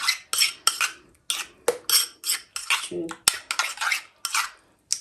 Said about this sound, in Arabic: احنا غادي نخلطو هذا المايونيز مع هذا كيتشوب، نخلطوها مزيان